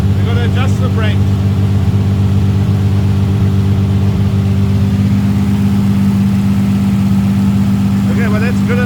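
A 1938 SS Jaguar 3½-litre drophead's engine runs steadily at a loud, close idle with a constant low rumble, while people speak briefly at the start and the end.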